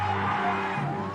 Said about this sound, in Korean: 마침내 만세 소리가 울려 퍼집니다.